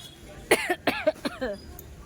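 A few sharp coughs in quick succession, close and fairly loud, with a brief pause between bursts and no talking.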